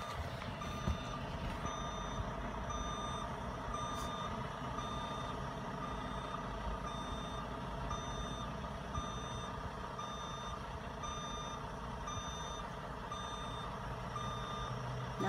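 Steady, evenly spaced reversing beeps from a truck, repeating throughout over a constant rumbling engine idle.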